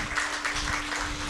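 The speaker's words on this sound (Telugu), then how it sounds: "చప్పట్లు కొట్టి దేవుని స్తుతించండి." A church congregation claps hands in praise of God, a brief burst of steady, fairly faint applause.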